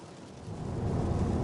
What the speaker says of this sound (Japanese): 雨がひどくて出せません。